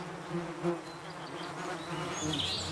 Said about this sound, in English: He gets covered in bees and gets stung